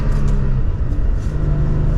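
A 2023 Toyota Tacoma with a six-speed manual gearbox accelerating, its engine giving a steady, loud, low rumble from inside the cab with no talking.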